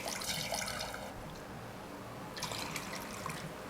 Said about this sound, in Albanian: Do t'i hedh dhe 3 gota ujë.